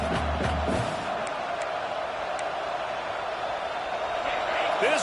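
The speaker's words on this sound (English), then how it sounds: "This crowd bringing the energy and noise early." Football stadium crowd roars during Clemson vs Texas A&M, a sustained distant wash of cheering and shouting, with a commentator's voice briefly in the opening second.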